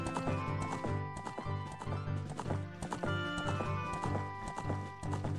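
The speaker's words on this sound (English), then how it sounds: "And we have a horse." Horse hooves in The Legend of Zelda: Ocarina of Time clip-clop in a steady galloping rhythm under the game's music, with no talk over them.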